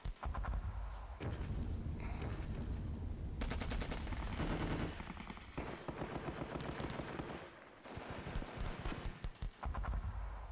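Sustained gunfire from units in Panzer Battles, a Normandy battle east of the Orne, rattles as dense rapid volleys and single cracks, nearly continuous and loud, with brief lulls between bursts.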